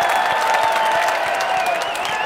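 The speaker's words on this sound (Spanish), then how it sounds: "¡Un aplauso!" Studio audience on a Spanish-language TV talk show applauds as Bad Bunny is introduced, a steady close burst of clapping with light cheering for the whole stretch.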